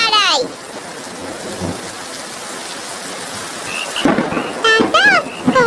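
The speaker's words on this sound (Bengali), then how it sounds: "কত জোরে বৃষ্টি নামলো, দেখ" Heavy cartoon rain pours as a steady, loud broadband wash, with a rumble of thunder early on and children's voices talking over the downpour near the end.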